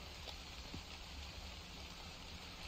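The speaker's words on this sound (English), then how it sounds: "Rain keeps scaring me because of how loud it is." Steady, loud rain in the horror video game The Convenience Store, a continuous broadband hiss that holds evenly throughout with no voices.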